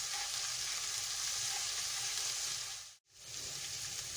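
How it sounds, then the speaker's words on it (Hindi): A steady, close sizzle of garlic-ginger paste frying in a hot pan, with a brief drop in the sound just past the middle before it resumes. "लहसुन अदरक के पेस्ट को अच्छे से भूनना है हमें"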